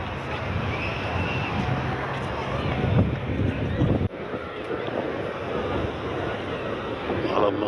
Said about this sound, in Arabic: شويه هوا يردوا الروح، اصل جمال جدا.